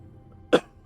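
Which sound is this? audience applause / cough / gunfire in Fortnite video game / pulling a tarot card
cough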